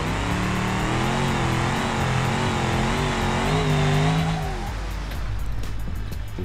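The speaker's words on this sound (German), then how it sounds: "Mal Reifen schön warm machen." A car in the BeamNG.drive driving game revs hard on asphalt to warm its tires, a loud sustained engine drone with rising and falling pitch that cuts off near the end, leaving quieter rumbling.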